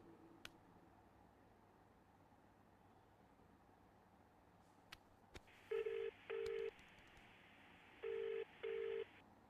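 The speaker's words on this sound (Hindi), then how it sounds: "वीडियो कॉल करता हूँ" A quiet electronic calling tone repeats in pairs of short beeps, two pulses, a pause, then two more, over faint background hum and a few clicks.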